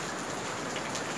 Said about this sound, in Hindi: अभी फिर से बारिश स्टार्ट हो चुकी है, वो भी कंटिन्यू है